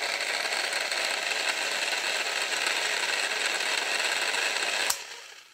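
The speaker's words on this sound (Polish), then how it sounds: "po włączeniu zasilania silnik fajnie zaczyna się od razu powolutku obracać" An old Metabo type 7508/2 electric drill motor runs on 24 V with a steady whirring hum that holds for about five seconds, then cuts off sharply near the end.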